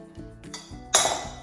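Clinking of a utensil against a bowl while bath bomb ingredients are stirred, a few light taps followed by one louder scrape-and-clink, brief and close.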